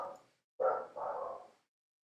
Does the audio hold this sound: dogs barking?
yes